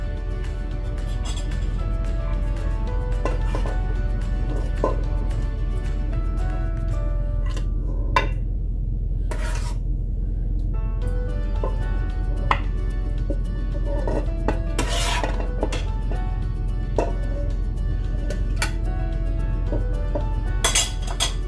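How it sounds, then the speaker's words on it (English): Metal spoon clinking against a ceramic serving dish while braised oxtail garnished with cilantro is spooned in, repeated light scattered clinks and scrapes over a steady low background hum. "Garnish with some cilantro and spoon it into your serving dish."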